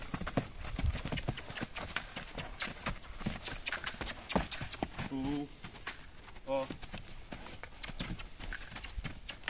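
Hooves of a mare clip-clop on hard ground in an uneven, fairly close walking rhythm, with a brief whinny partway through and men chatting over the steps.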